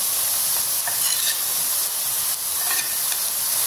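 Banana pieces sizzle loudly in a pan for caramelized banana, a dense continuous hiss of frying with a few faint knocks as the slices are turned.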